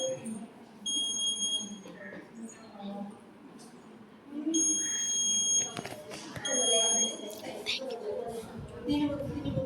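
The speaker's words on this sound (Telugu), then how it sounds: "టచ్ సెన్సార్ని ఎవరైనా టచ్ చేయగానే బజర్ మోగడం జరుగుతుంది" A buzzer on a touch sensor circuit sounds in three short, shrill, steady beeps, separated by pauses. Someone talks nearby between and under the tones.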